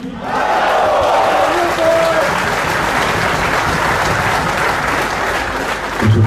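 Loud sustained clapping from a speedway crowd in Krosno greeting rider Andrzej, a thick wall of applause with a few faint shouts and a voice briefly audible.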